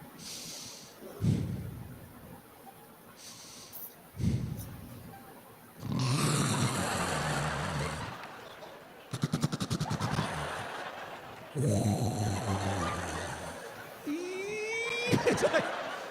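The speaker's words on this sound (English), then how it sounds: "this woman can throw down some snoring" A woman snores loudly in bed in a series of rough, rattling breaths with snorting bursts, heavy and close, spaced unevenly over the span.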